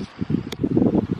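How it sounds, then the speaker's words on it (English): Strong wind gusting outdoors on a horse farm, a loud, steady buffeting roar with rushing pulses and one brief sharp burst midway, heard alone without talk. "It is super windy."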